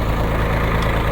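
A farm tractor's engine runs steadily in a village wheat field, a continuous low rumbling idle close by with no talk over it.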